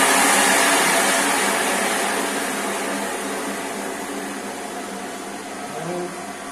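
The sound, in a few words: vacuum packing machine sealing dairy packets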